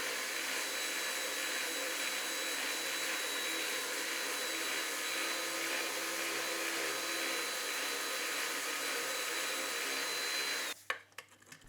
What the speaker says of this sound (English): I had to use the spindle sander to widen the hole a little bit.